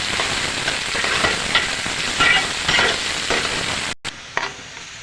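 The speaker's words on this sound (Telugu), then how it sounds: "బాగా వేయించి కలర్ మారేదాకా వేయించుకుందాం." Mutton biryani ingredients frying until golden in a pan, a dense steady sizzle with stirring scrapes, briefly cut off near the end before the crackle resumes.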